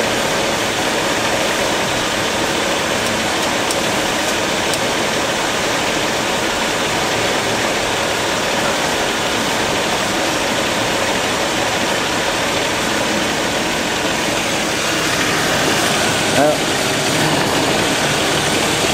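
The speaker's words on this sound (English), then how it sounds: "She's idling real smooth now." A steady, smooth idle of an AMC Eagle engine with a Motorcraft 2150 carburetor runs continuously with a broad, even rumble and no talking.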